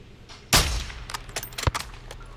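Gunfire in the Call of Duty Modern Warfare 2 campaign on Hardened difficulty: one loud, close shot followed by a scatter of sharper, quicker reports.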